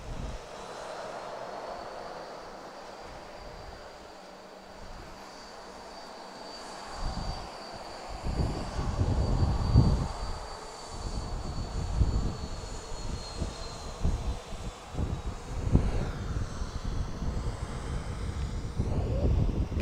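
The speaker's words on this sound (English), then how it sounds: "Got another Southwest Airlines headed our way." Southwest Airlines airliner approaching Dallas Love Field, a distant jet roar swelling from faint to loud over about twenty seconds, with gusty wind rumble in the background under a stormy sky.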